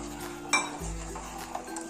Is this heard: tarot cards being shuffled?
no